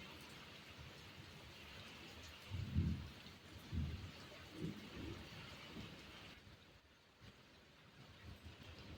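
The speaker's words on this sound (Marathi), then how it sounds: "तर पाऊस काही जास्त नाही झाला बरं का थोडाच झालाय" Faint rain patters steadily while low rumbles of distant thunder roll through, swelling a few times before fading.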